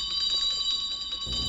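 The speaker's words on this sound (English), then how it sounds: "What does the bell mean?" A bell rings in a scene from the film Cinema Paradiso, a steady, bright metallic ringing that holds through the whole moment with no voices over it.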